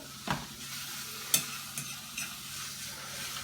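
Steak searing in a frying pan on top of onions, giving a steady hiss of frying fat with a few sharp pops and clatters of the pan; no voices.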